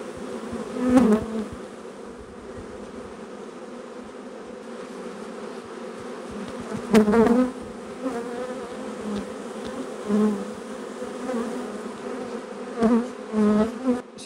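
A swarm of bees buzzes steadily around a new hollow log hive, a dense droning hum with individual insects swelling louder as they fly close to the mic, no voices.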